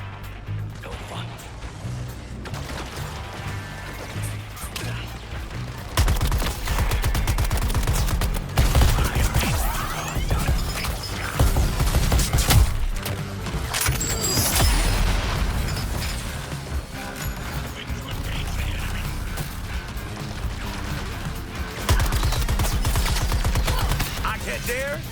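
Sustained gunfire and explosive crashes in the video game Suicide Squad: Kill the Justice League, dense and loud throughout with repeated bursts and booms over game music, with some talk mixed in.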